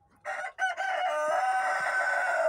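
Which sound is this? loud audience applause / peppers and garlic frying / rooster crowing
rooster crowing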